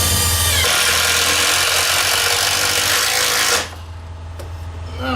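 A power drill whirs steadily as it drives 2.5-inch screws into the wooden frame of a large upholstered chair, running loud and continuous for about three and a half seconds before cutting off, leaving quieter shop noise.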